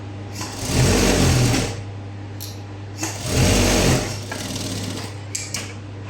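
A sewing machine runs a straight tacking stitch along a doubled fold of blouse fabric, in two steady bursts of whirring with a short pause between, close and alone.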